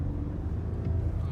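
Audi A4 Allroad V6 TDI diesel with 218 hp and 400 Nm pulls hard at full throttle from around 1900 rpm, a dense low engine drone heard from inside the cabin with road rumble and talking over it.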